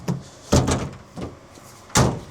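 A cheap Chinese ute's door is shut and latches, giving several solid thumps at close range: a light knock, a heavy slam with a rattle, another thud, then a final sharp slam.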